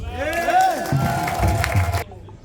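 Crowd at a university graduation ceremony in Kisangani cheering with voices and whistles, loud and close, over some clapping, cutting off abruptly after about two seconds.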